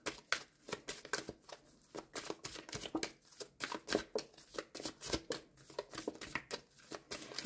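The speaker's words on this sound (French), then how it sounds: "Allez, on prend la dernière carte." Tarot cards are shuffled and drawn close up, a quick rhythmic series of papery flicks and riffles with soft slaps, fairly quiet and steady throughout.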